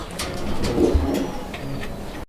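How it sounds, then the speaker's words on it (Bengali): A pair of Lakka (fantail) pigeons, the male cooing, soft low rolling coos close by with a faint airy background, no talk. "এই যে ডাকাডাকি করতেছে এটা হচ্ছে আপনাদের নর কবুতরটা"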